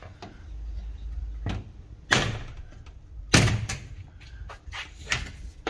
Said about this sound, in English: to get this out, again, short, sharp shop, chisel, mallet